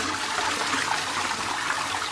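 A toilet flush sound effect triggered from a soundboard plays as a steady, moderately loud rush of water for about two seconds, with no talking.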